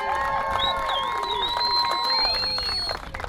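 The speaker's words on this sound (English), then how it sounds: "Could we give the crews of the 17 and the 25 a round of applause, please?" A crowd at an air show ribbon cutting in Twin Falls claps and cheers continuously, with whoops and shouts rising over steady applause throughout.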